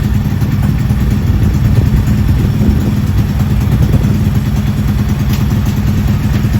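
Honda Z50 mini trail drag bike with a 140cc engine running on a mobile dyno, a loud, steady, close engine roar held at high revs throughout with mechanical clatter and no talk.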